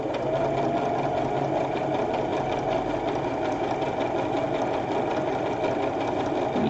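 A sewing machine runs steadily as it stitches an embroidered rope bowl, a continuous mid-pitched mechanical whir with rapid regular needle clatter, close and even throughout with no voices.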